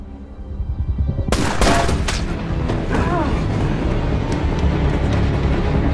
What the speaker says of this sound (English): Shot came from across the alley.